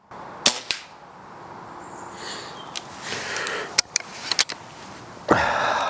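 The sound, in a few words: spring powered air rifle shot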